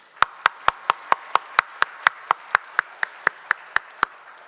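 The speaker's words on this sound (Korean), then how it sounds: "우리 다시 한번 우리 찬양대 박수해 주시겠습니다" Applause for a church choir at a Christmas service, heard as about sixteen sharp, evenly spaced claps in a steady unison beat, crisp and close with quiet gaps between.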